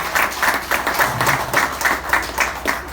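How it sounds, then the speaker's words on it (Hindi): A training-session audience claps together in a rhythmic, evenly spaced beat, fairly close and steady, with no talking over it. "तालियों से बताइए मुझे सही है।"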